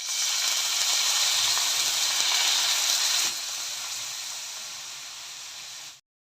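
Milk mixed with sugar poured into a hot pan for a quick bread cake hisses and sizzles steadily up close, the sound easing slightly partway through before cutting off abruptly near the end.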